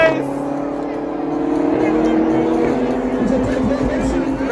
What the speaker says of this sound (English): The last race of the day, M240i versus X6M.